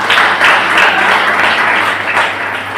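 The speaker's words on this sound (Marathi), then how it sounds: "आपण जोरात टाळ्या वाजवून प्रभू येशूला धन्यवाद देतो।" A church congregation claps loudly and steadily in dense, sustained applause that fills the room from start to finish.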